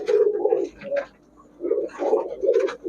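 Several high-flyer Giribaz pigeons coo nearby in soft, repeated throaty phrases with brief pauses between them.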